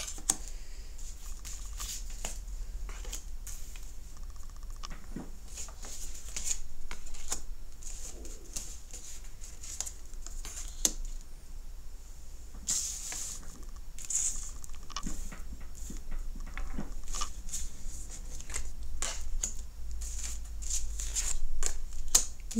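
Tarot cards being shuffled for a reading: soft, continuous papery patter and riffling over a low background hum, fairly quiet, with occasional sharper flicks and no talking.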